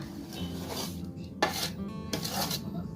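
Raw mango pieces tossed with masala inside a metal vessel, giving scraping, clattering and rubbing sounds close up, with several louder knocks against the sides.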